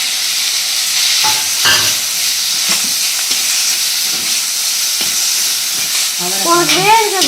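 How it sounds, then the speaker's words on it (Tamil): Broad beans tossed into a hot pan after mustard seeds have popped sizzle and hiss steadily, with occasional scraping stirs, and a voice briefly speaks near the end. "இந்த அவரைக்காயை சேர்த்துக்கலாம்"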